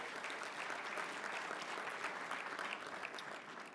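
Applause from a conference audience greeting the mayor of Mesa, Arizona, a continuous even patter of many hands, somewhat distant and fairly soft, sustained without pause.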